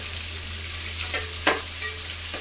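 Tomatoes dropped into golden-browned onions frying in a pan for a potato, peas and carrot curry: soft steady sizzling with a few brief stirring scrapes and one sharper splash, close by, no voices.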